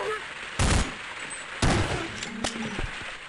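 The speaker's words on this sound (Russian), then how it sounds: "Дробовик мне, кстати, нравится." Shotgun blasts in the video game Half-Life, three sharp shots spaced about a second apart, each with a short ringing tail, over quiet background noise.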